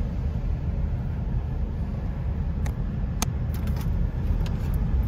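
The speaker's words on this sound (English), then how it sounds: "Wow, that truck, that big old truck's backing up." A big truck backs up inside an underground business complex, its steady low engine rumble filling the space continuously with a few faint higher clicks or squeaks, no talking.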